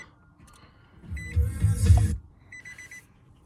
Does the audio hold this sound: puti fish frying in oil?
no